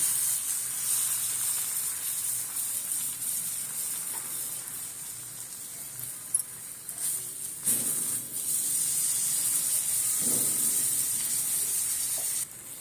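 Paneer rolls roasting in butter in a pan give off a soft, steady sizzle and hiss, close and continuous with a few faint scrapes, no talking.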